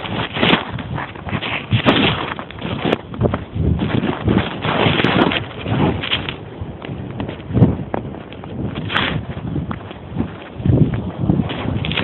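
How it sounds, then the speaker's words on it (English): Strong blizzard wind gusting and buffeting the microphone outdoors in New Britain, a loud, rough, continuous roar that surges and eases without pause. "How loud the wind is blowing."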